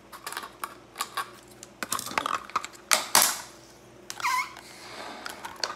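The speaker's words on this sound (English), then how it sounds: "Now get the bottom and just trim the sharp sides off" The bottom of a plastic bottle being trimmed of its sharp edges, giving a series of sharp, close snipping clicks and plastic crackles in uneven clusters with brief pauses between.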